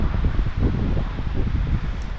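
Strong wind at the beach buffets the microphone in loud, rumbling gusts, a rough continuous roar with no talking.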